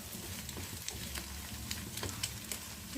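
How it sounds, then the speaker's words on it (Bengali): An egg is scrambled and fried in a pan, giving a soft, steady sizzle with intermittent light spatula scrapes and taps, close but fairly quiet. "ডিমটাকে এভাবে ঝুরি করে নিই।"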